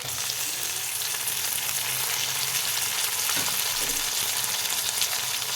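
Chopped tomatoes hiss and crackle in a hot pan with fried onion and ginger-garlic paste, a steady, close sizzle without pause.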